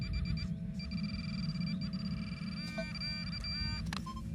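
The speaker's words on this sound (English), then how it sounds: "We're getting a double beep." Faint electronic tones from a metal detector sound over a low rumble, with thin beeps chirping in short repeated bursts.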